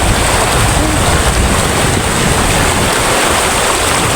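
Floodwater rushes in a loud, constant roar with a broadband wash of turbulent water and no letup or clear breaks throughout.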